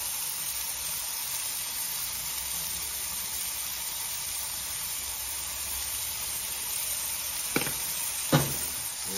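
Burger patties sizzling on a griddle, a constant broad hiss of searing meat, close and even, with two short sharp clicks near the end.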